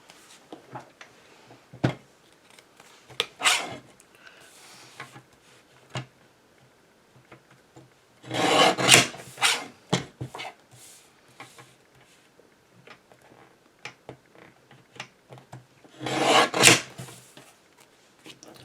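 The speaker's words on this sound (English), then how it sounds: "So I'm going to trim this down a little bit more." Recycled card paper is trimmed down on a paper trimmer for a handmade Valentine card: scattered quiet clicks and taps, then two louder sliding cuts several seconds apart, close by with no talking.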